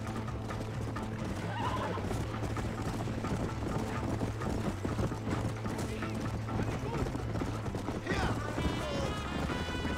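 Horse hooves clip-clopping at a fast gallop in the video game Red Dead Redemption, steady rhythmic beats under game sounds, with a neigh near the end and voices talking.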